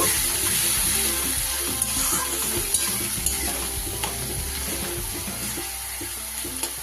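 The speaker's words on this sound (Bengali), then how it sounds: "একটু ভাজা ভাজা হওয়া পর্যন্ত অপেক্ষা" Ginger, garlic and green chili paste sizzles and fries steadily in a pan, with a constant hiss and a few light scraping clicks of stirring.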